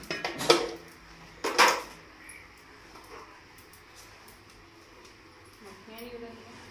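White chickpeas, soaked for hours, tipped into a metal cooking pot, giving two loud clattering bursts early on, then quieter handling noises under a speaking voice.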